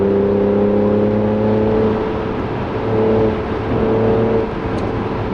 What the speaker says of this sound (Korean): 극한의 속도까지 쉽게 가속을 합니다